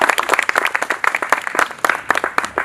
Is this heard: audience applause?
yes